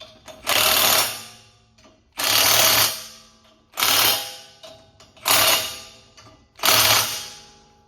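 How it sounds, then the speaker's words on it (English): Torque wrench tightening bolts on a third-generation Ram 1500 during a spindle drop kit install: five loud, evenly spaced bursts of rapid ratcheting clicks, each about a second long with short pauses between, close and alone. "So you torque them right there"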